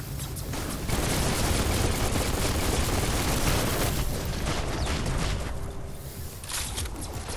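Weapon fire in Biomutant rattles as a dense, continuous barrage of rapid shots, loud and sustained throughout before easing slightly near the end.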